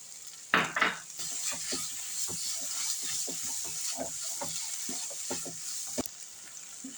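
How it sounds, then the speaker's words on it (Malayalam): Egg curry masala sautéing with fresh coriander leaves in a pan, a constant hiss under repeated scraping and clinking stirs, with a louder clatter near the start. "നമുക്ക് ശകലം മല്ലിച്ചപ്പും കൂടെ ചേർത്ത് ഒന്നും കൂടെ വഴറ്റിയെടുക്കാം"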